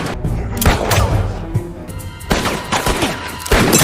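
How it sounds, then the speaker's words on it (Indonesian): A gunfight in an action film, with rapid gunshots and heavy bursts of fire mixed with thuds and the film's background sound, loud and close throughout. "terjadilah baku tembak"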